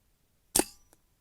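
A single crisp, close report from a Brocock Ranger XR .22 air rifle firing a JSB pellet, a sharp snap that decays quickly, followed by a faint tick a moment later.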